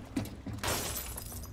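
Glass shattering in the Rainbow Six Siege tactical shooter game, a loud crash followed by a broad, sustained burst of breaking glass and noisy debris filling most of the moment.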